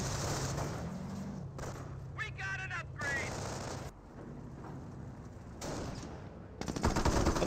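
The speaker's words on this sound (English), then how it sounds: "there's a landmine explosion" Gunfire and a landmine explosion in Company of Heroes 1, a World War II real-time strategy game, come as dense, continuous battle noise with rattling bursts throughout.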